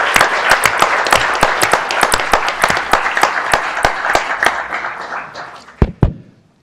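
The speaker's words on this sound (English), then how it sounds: "I think that it deserves a round of applause for Ryan" A city council chamber in Provo fills with sustained applause for an employee, dense clapping from a roomful of people that thins out and ends with a couple of last claps.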